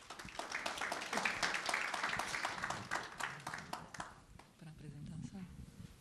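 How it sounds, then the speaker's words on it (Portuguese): An audience at a São Paulo health-sector business talk applauds to welcome a law-firm partner onto the stage, a dense burst of clapping that swells, then thins and fades out after about four seconds. "vamos recebê-la com uma salva de palmas"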